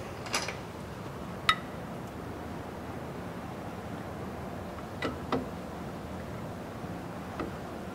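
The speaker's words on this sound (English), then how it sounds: "you're going to hear a little bit because that's this brake pad hitting" A brake pad on an electric car hits and scrapes faintly in a few brief, sparse clicks and creaks over a steady whooshing background.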